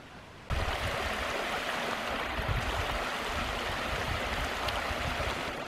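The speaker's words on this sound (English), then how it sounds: "there's a little bit of a waterfall down through there." Cottonwood Creek Falls, a small cascading waterfall on a creek along a trail near Descanso, California, rushes in a steady broadband roar that starts abruptly and stays constant throughout, close and fairly loud, with no talking.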